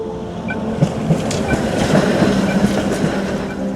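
An old historic tram running through Košice, a steady close rumble with rhythmic wheel clicks over the rails, loud and continuous with no talk.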